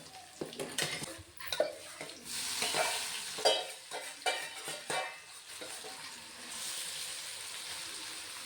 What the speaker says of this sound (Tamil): இப்போ 2வது டைம் கத்திரிக்காய் போட்டாச்சுங்க. அதுவும் நல்லா வெந்து வரட்டும்.